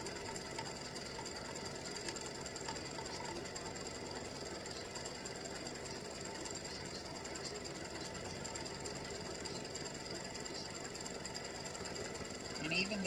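An embroidery machine stitches a baseball glove appliqué down onto fabric, a steady, even mechanical hum with fine rapid ticking running unbroken and close for the whole stretch.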